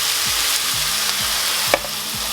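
Tomatoes fry on high heat in a pan, giving a steady, close sizzling hiss broken by regular soft knocks as they are stirred.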